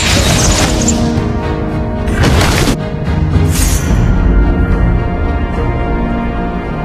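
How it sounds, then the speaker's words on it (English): Turret destruction in the Mobile Legends: Bang Bang mobile game, a loud crashing boom with bursts of debris and swooshing effects layered over steady game music, with no talk. "Your team destroyed a turret!"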